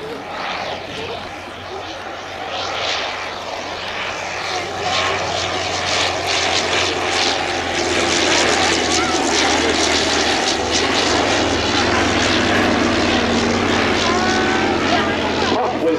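Vintage propeller aircraft fly past at the Shuttleworth Fly Navy airshow, their engines a loud, steady drone that swells gradually as the planes draw nearer, with no talk over it.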